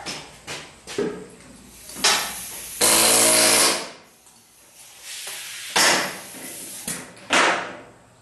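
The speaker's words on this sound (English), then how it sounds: "next tool in my bag of tricks I'm going to try is the trusty air hammer" An air hammer rattles in short bursts and one longer sustained run while removing car rear strut rods and shock mounts, with hissing pauses and clanks between them.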